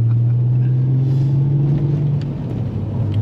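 An 800 hp VW Golf MK4 R32 with a big turbo and full engine build drones steadily while driving, a loud, close, low engine hum that holds nearly constant with a slight dip partway.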